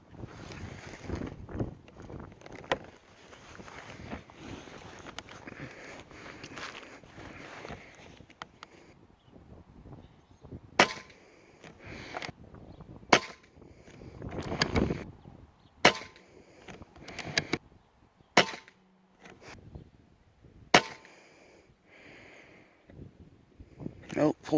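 A Predator GTO 16-grain .25 caliber airgun pellet fires at 50 yards, charged to 2400 PSI and loaded from a single-shot tray: several sharp, separate cracks spaced seconds apart over low wind noise and occasional quiet talk.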